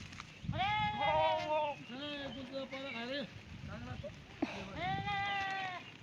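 Several loud, wavering sheep bleats sound close by on a mountainside, one after another with short pauses between them.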